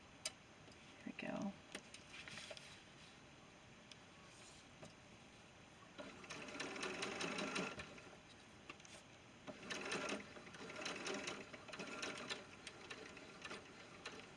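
Sewing machine stitching a lace gown for ball-jointed dolls, close rapid mechanical whirring in several runs of a second or two, with quiet handling between and a soft voice speaking briefly at the start.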